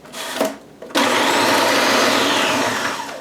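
Food processor pulsing peeled garlic cloves and carrots for a meatloaf, a brief whir, a short pause, then one loud steady whirring run of about two seconds, close and alone.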